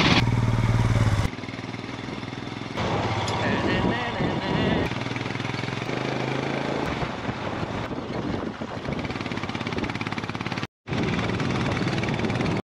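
Motorcycle riding along a mountain village road in Sharchi, Himachal Pradesh: a continuous engine drone mixed with heavy wind buffeting on the microphone, loud and close, with a brief dropout near the end.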